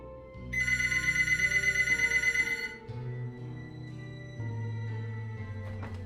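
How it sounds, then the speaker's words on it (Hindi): A telephone bell rings in a rapid trill for about two seconds, followed by a low steady hum and faint clicks. "तभी अचानक उसके फ़ोन की घंटी बजती है।"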